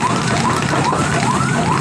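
A fire truck siren wails loud and close with a rising and falling pattern, among dozens of fire engines sent to a blaze in a dense residential area in Kemayoran, Jakarta.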